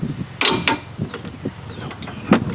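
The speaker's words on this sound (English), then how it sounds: "I'm just tightening the mounting bolts for the bracket." Bracket mounting bolts being tightened on the front wheel hub of a 2010 Nissan Altima, with close, irregular metallic creaks and ratcheting clicks in short bursts that stand clear of any talk.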